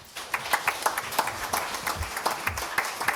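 Scattered, fairly light clapping from an audience at a town first responder awards ceremony, individual claps audible as a modest group applauds for a few seconds at moderate distance.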